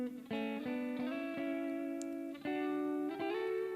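Electric guitar drenched in spring reverb, panned within a studio mix, plays sustained ringing chords that are restruck every second or so, with a long shimmering tail between strikes and no voices.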